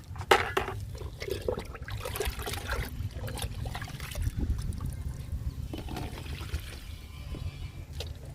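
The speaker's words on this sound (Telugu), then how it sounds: "ఇప్పుడు లిక్విడ్ ఇస్తున్నా." Liquid fertilizer poured onto vegetable plants in a home garden, a soft uneven trickle and splash of liquid onto leaves and soil, moderately close with small bursts and faint background noise.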